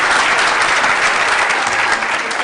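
Loud, sustained audience applause at an annual award dinner honouring women trailblazers, a dense continuous wash of clapping filling the whole stretch with no voices above it.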